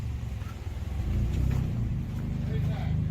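A race car with a flat tire rolls out from a circle track build area, its engine a steady low rumble that swells and holds, with people talking over it.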